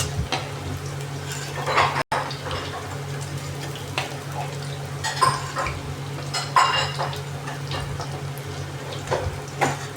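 Fried baby corn for crispy chilli baby corn being lifted from a hot pan into a separate bowl, with repeated clinks and scrapes of a metal utensil against cookware over a low background sizzle, close by, without speech.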